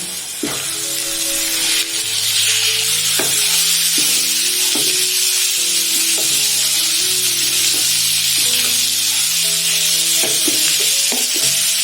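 Chicken keema hits a hot pan of softened onions with a loud, continuous sizzle that swells after the first couple of seconds. A faint melodic tune plays underneath, with no talking.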